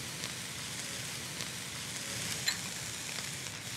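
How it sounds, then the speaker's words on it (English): Cabbage with coconut aminos and sesame seeds sizzling steadily in a pan while being stirred, a soft continuous crackle with a faint clink near the middle, no talk. "And we're just gonna stir that around and make sure that cabbage is tender the way you like it."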